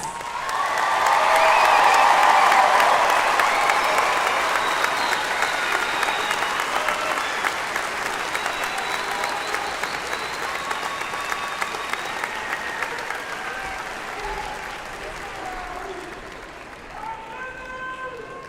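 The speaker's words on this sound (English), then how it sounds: "Let's give our graduates a round of applause." Applause at a 2022 community college commencement in Kansas City, swelling loudly early on with some cheering, then continuing as a long, gradually fading wash of clapping from a large crowd, with a voice briefly speaking over it.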